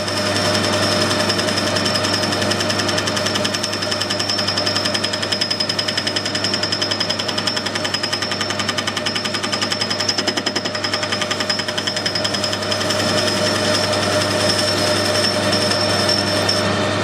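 A machine tool cutting a taper on a test bar fitted with an ER 40 collet system, giving a continuous loud, fast chattering buzz with a steady high whine throughout, without pauses or talk.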